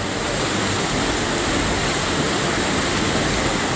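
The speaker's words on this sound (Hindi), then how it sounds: "मीनाछिल नदी उफान मार रही है और नदी का ये पानी पहाड़ को चीरता हुआ रिहायशी इलाके को दरिया बनाने पर आमादा है।" The flooded Meenachil river surges through Poonjar as a loud, unbroken roar of muddy torrent water tearing past hillside and homes, dense and close with no pause.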